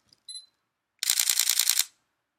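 A Sony Alpha mirrorless camera fires a rapid burst of about ten sharp, evenly spaced shutter clicks, close and crisp, after a couple of faint beeps.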